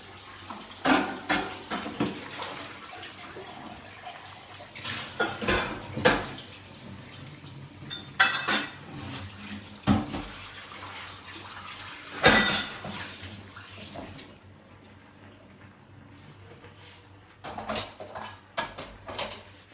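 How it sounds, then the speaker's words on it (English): A dish is rinsed under a running kitchen tap, with water splashing in bursts, sharp clinks of the dish against the sink now and then, and a quieter stretch near the end before splashing resumes. "In the meantime, I'm just going to quickly rinse one of this here."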